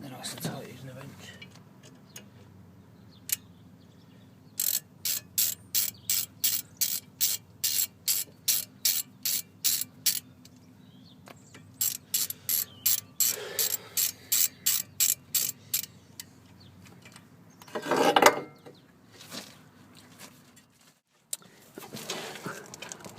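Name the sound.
wrench ratcheting to tighten brake disc screws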